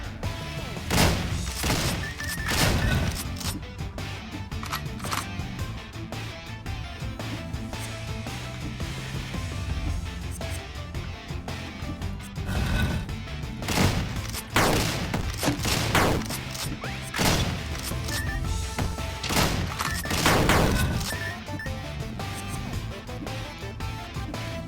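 Rapid, dense bursts of shotgun fire from the roguelike video game Dungreed, a near-continuous barrage of loud blasts with frequent sharp peaks, steady and close throughout with no speech.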